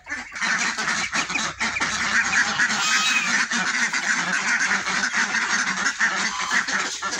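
Domestic geese honk continuously and loudly at close range, a dense overlapping chorus of harsh calls with no pauses.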